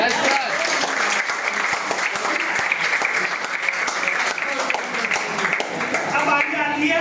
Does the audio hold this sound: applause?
yes